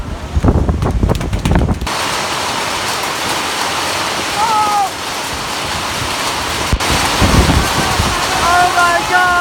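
Strong storm wind and heavy rain roar steadily during a storm in Mae Sai, Thailand, a loud continuous wash with gusty surges, while people talk and exclaim over it near the start and end.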